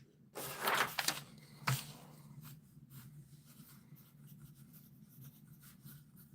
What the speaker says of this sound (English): I'm gonna write this down.